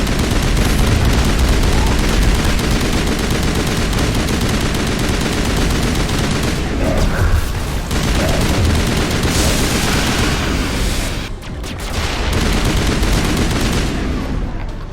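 Dense, loud video-game gunfire from the Mass Effect shooter, including shotgun blasts, crackles almost continuously with brief lulls.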